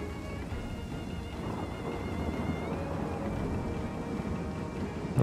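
Steady rain in the strategy game Total War: Three Kingdoms, a soft, continuous hiss of falling water at low volume, with no voices over it.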